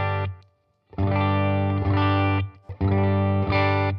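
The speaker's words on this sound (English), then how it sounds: "This is the RC booster from Xotic Effects, and I leave that on." Electric guitar through an Xotic Effects RC booster pedal set at unity gain: loud, warm, slightly driven sustained chords in bursts, with brief silent gaps between strums.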